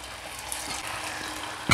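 Cauliflower pieces fry in hot oil, giving a steady close sizzle that ends in a sharper crackling burst as more pieces hit the pan.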